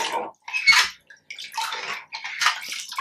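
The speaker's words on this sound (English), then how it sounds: "have a nice little dipping bucket of water to give the block maker a nice rinse" Water sloshing and splashing in a bucket as a soil block maker is dunked and rinsed, several close, bright bursts separated by short pauses.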